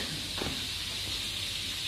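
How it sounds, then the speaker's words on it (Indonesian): Tempe fries in a pan with a constant bright sizzle and hiss, close and steady, with a brief clatter of stirring near the start. "Nih lagi goreng-goreng"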